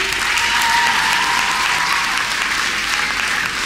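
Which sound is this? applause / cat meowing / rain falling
applause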